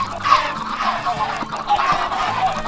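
Chickens cluck repeatedly in a survival video game, a steady bed of soft, overlapping clucks and fowl chatter that runs for under three seconds with no clear talk over it.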